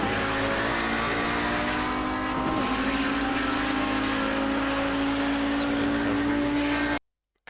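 An Audi 90 GTO race car engine drones steadily and loudly at high revs on the Spa circuit in a racing game, with a rising pitch through the middle before cutting off abruptly near the end.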